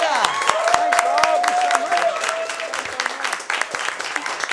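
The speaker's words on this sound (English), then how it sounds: "Big round of applause for Tim Ferguson right here." A studio audience applauds comedian Tim Ferguson on a live television show, lively clapping with some cheering while voices talk over it throughout.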